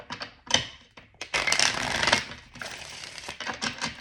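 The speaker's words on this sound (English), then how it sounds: "let me go ahead and finish shuffling this deck." A deck of oracle cards being shuffled by hand, giving crisp riffling and flicking bursts of card noise with brief pauses in between, close and fairly loud, with no voices.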